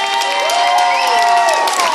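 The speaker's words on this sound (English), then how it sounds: "say one last round of applause for the students" Crowd applauding and cheering students at a school event, a dense, loud wash of clapping mixed with whoops and shouts lasting a couple of seconds.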